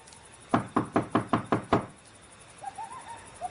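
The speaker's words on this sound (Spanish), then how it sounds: "Llamó a la puerta de la calle" Seven sharp knocks on a street door land in a quick, even series, followed by faint, brief tonal sounds in the quiet afterward.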